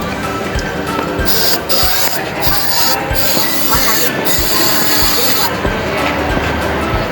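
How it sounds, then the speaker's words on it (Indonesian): Several sharp hissing bursts of brake cleaner spray on a Suzuki Ertiga rear brake drum, each lasting a moment, over a steady rumbling workshop background. "Setelah itu semprot menggunakan brake cleaner."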